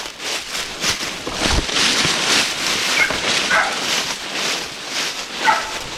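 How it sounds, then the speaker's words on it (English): Hunting hounds bark and yip in a thicket while a bear hunt is underway, a busy mix of overlapping calls at middle distance, with some whining and no clear speech. "So I let a few dogs out and headed in there."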